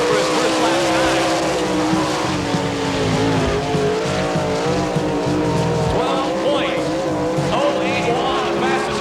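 A sprint car races through its second lap on a dirt track at an All Star Circuit of Champions event in Eagle, Nebraska, its engine roaring loud and close with tire squeal and skidding throughout.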